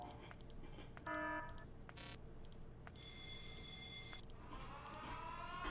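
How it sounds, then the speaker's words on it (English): Basic alarm sounds from the programmable speaker in Factorio, a series of synthetic electronic tones: short harmonic beeps, a brief high buzz, then a longer sustained bright alarm tone and a rising warble, each separated by quiet gaps. "In alarms, we have basic alarms."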